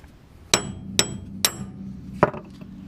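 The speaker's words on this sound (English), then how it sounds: "it should just be a few good whacks" Four sharp metal hammer whacks knock wheel studs out of a Toyota, Nissan, Subaru or Honda car hub to fit ARP extended studs, three in quick succession and a fourth after a pause, loud and close with no talking.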